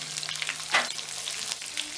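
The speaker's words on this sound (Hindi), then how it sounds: "घी में हम शिमला मिर्च डाल देंगे" Capsicum, boiled carrots and boiled beans fry in ghee in a pan with a steady close sizzle, broken by one sharp crackling burst as the vegetables hit the hot fat.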